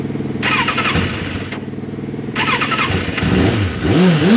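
A custom motorcycle engine, one of five at a custom shop, fires up and idles with a deep, steady rumble, then blips its throttle in two short revs before a louder, rising rev at the end, close by.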